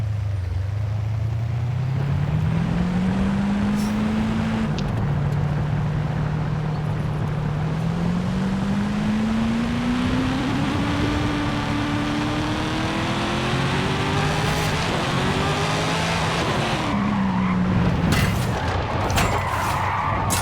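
A deep Dodge Charger Hellcat engine drone in Forza Horizon 5 revs up and down steadily for the whole stretch, with gear-like pitch climbs and drops, loud and close, with no talking.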